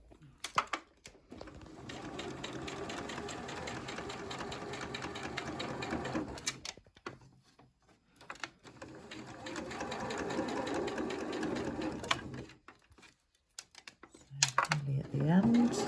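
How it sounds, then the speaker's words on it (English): A sewing machine stitching a shirt collar and binding, running in two long steady bursts of rapid close mechanical whirring with short pauses between, plus handling clicks at the start and end. "we don't machine over pins. So to the end and then backward stitch."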